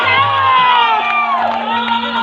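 A large, close crowd cheers and shouts, with high children's voices whooping over a steady roar and a constant hum running underneath.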